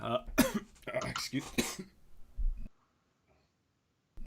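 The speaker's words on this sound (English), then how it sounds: "I'm coughing and whatnot." A voice talks briefly, followed by a few rough coughs and throat clearing close to the mic, then quiet.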